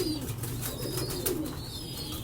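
Cream-eyed pigeons coo softly in a low, rolling murmur, close by and steady over a brief stretch with no voices.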